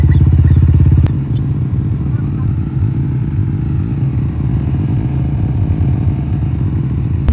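Yamaha MT15 motorcycle running with its chain freshly lubed with gear oil, giving a steady, close, low engine rumble throughout, with a brief louder clattering start before it settles into an even idle.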